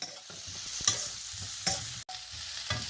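Onion and garlic-ginger paste sizzles and fries in a pan while a utensil stirs and scrapes, with a brief cut of silence midway and no talking.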